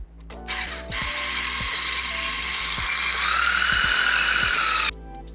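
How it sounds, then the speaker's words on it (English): Egg whites are whisked to stiff peaks with a steady, high whirring buzz lasting about four seconds. Faint, irregular clicks and taps of the beaters against the bowl sound close and clear underneath. "You're going to take a whisk and we are going to whisk this until it forms stiff peaks."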